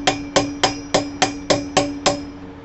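A hammer taps a new Harley wheel bearing into place by its outer race, eight sharp metal-on-metal strikes in an even rhythm, close and clear with no talk.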